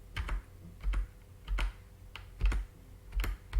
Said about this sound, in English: I'm going to press all the main keys, like one, number keys, don't do anything. F keys.